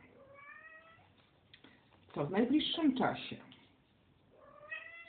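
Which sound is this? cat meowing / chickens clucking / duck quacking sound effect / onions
cat meowing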